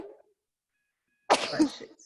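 After a brief faint voice and a second of silence, a single sharp, breathy burst erupts up close, like a sneeze.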